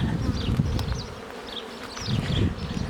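Honeybees swarm at the hive entrance on an early spring cleansing flight, a dense, continuous buzzing drone that fills the whole clip at close range.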